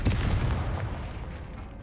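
A Confringo spell blast in Hogwarts Legacy lands as a loud, dense boom that decays into a rumbling, noisy tail over about two seconds.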